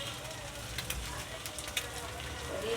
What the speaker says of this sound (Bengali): তো আমাকে ডিম ভেজে দিচ্ছে